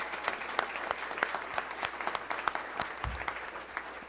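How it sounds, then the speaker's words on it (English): An audience at a school board of education meeting claps for several seconds, a steady patter of many hands heard from a moderate distance with a few sharper individual claps standing out. "Can we give them just one more round of applause"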